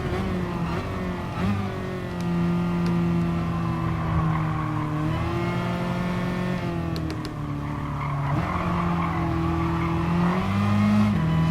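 Tesla Model S electric car racing in Gran Turismo, a steady high electric-motor whine rising and falling in pitch through acceleration and braking around a hairpin, loud and continuous throughout.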